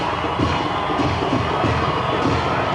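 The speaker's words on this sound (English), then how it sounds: "we're getting a good response from the London crowd" Crowd at a London high school football game, LHS versus Lemon Monroe, cheering and shouting in a steady loud wash with rising bursts of voices, nearby and continuous.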